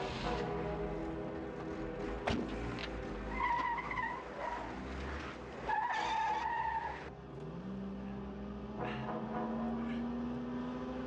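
A car skids with tires squealing amid engine roar, a sharp impact and shouting voices in a tense scene, the squeal rising in pitch toward the end.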